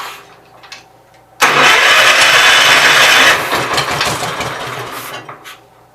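A Gravely 810 tractor engine with a flooding carburetor cranks, then catches abruptly and roars loudly at high revs for a couple of seconds before settling into a rougher, fading idle.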